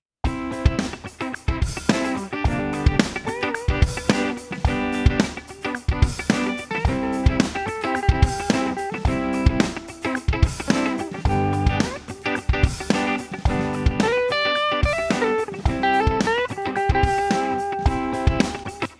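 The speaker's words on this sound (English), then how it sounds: "it's going to bring in the Huat 100 with a 4x12 cab. And it's got some delay, some reverb" An electric guitar plays through a Huat 100 amp model with a 4x12 cabinet, delay and reverb, sounding a continuous, loud run of chords and notes with no talking.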